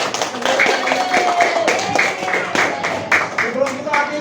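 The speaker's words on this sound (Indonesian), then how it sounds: "Baiklah, kita kasih tepuk tangan untuk kita semua." Students in a classroom applaud, a loud, close burst of overlapping hand claps that holds steady for several seconds, with voices mixing in under the clapping.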